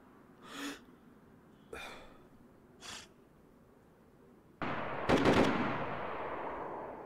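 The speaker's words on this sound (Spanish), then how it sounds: "¡Ah, la que de tiros!" Gunfire in the survival game DayZ: a few separate shots at first, then a sharp burst of rapid firing that tails off into a long, loud rumbling echo.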